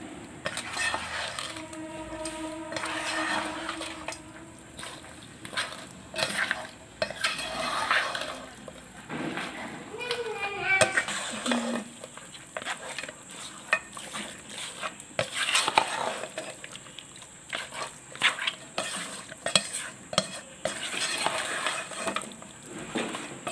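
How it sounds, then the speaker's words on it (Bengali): Beef, potatoes and spices with mustard oil being mixed by hand in a bowl for a Bengali beef curry, giving repeated wet squishing and scraping against the bowl along with clinks and clattering from nearby utensils, steady and close. "দিয়ে এখন সব কিছু দিয়ে মাখিয়ে নিতে হবে।"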